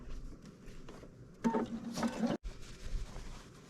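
A sewing machine runs a short burst of about a second, stitching a second topstitch line down a fabric bowl cozy, a close mechanical whir that stops abruptly amid quiet room noise.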